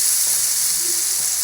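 Potatoes, tomatoes and spices frying in a pan while being stirred for a chana dal dhoka curry, giving a steady close sizzle with a soft scrape of stirring throughout.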